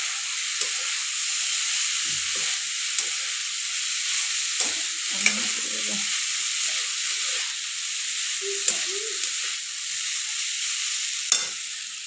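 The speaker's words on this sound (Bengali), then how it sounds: "চিড়েগুলো দিয়ে দিয়েছি, এবার একটু ভালো করে নাড়াচাড়া করে নেব।" Flattened rice (chira) stirred in a frying pan: a steady bright sizzling hiss throughout, with scattered soft scrapes and a few sharp clicks of the spoon against the pan.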